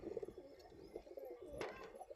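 Faint, soft pigeon coos repeat in low murmuring pulses, with a brief rustle partway through.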